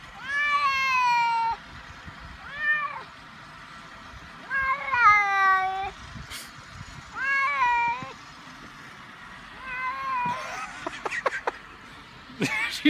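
A house cat protests being outdoors in snow, giving a series of loud, drawn-out meows and yowls close by, spaced across the stretch with pauses between, while people murmur and chuckle softly.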